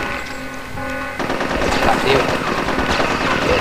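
Rapid, continuous gunfire in the Nintendo 64 video game Conker's Bad Fur Day sets in after a short musical tone and rattles on steadily and loudly to the end, with a voice briefly heard.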